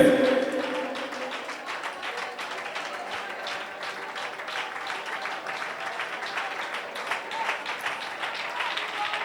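Steady, crowded hand-clapping fills a church prayer gathering, a close, continuous rattle of many palms with some voices blended in, keeping an even level from start to finish.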